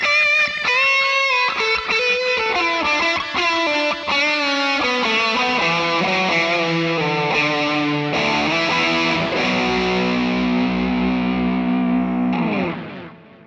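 Electric guitar through a high-gain distortion pedal voiced for 1980s rack-style lead tone, a loud sustained melodic run with singing notes and bends, ending on a long held chord that rings out and stops.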